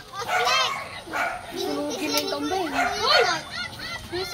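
A dog barks and yips repeatedly amid lively voices of children talking and playing close by.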